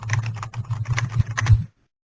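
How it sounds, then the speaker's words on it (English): Fast, steady typing on a computer keyboard, a dense run of light key clicks close to the listener for under two seconds before stopping abruptly into silence. "get a text box, type something into here"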